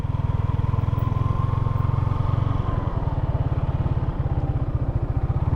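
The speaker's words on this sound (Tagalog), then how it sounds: "bawal patayin tong makina kasi ilang oras tayong bumiyahe" Yamaha Sniper 155 motorcycle engine idling steadily after a long ride, its close, loud, even putter repeating without a break from start to finish.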